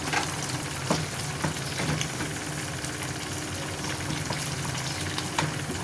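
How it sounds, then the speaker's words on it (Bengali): Country chicken curry stirred in a pot, a steady sizzle and bubbling with soft scraping strokes and faint clinks recurring every second or so, fairly close and with no talk. "দশ মিনিট পর ঢাকনাটা উঠিয়ে আর একটু নেড়ে চেড়ে দেবো।"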